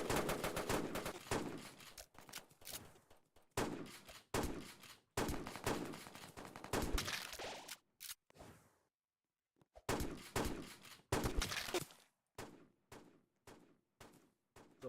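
Gunfire in a shooting video game comes in loud, close bursts of rapid shots separated by short gaps and a longer quiet stretch.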